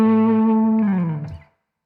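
A short blues lick played on electric guitar through a distortion effect, a few sustained overdriven notes that bend down, then fade out into silence, close and alone.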